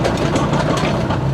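A 2.6-ton excavator with retractable tracks and hydraulic pilot control, its engine running steadily at about 1000 RPM, gives a loud, close, continuous rumbling drone with no talk over it.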